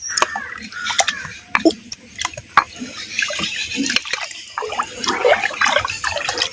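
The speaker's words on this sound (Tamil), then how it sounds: "ஐம்பது கிராம் பாசிப்பருப்பு பாசிப்பருப்பு பச்சை தண்ணியில் சேர்த்து அலசி இப்போ சேர்த்துக்கிறேன்" Fifty grams of moong dal swished and rinsed in water, then tipped into a pot, with close sloshing, trickles and drips. Brief clinks and splashes come in irregular bursts, and a voice is faintly present.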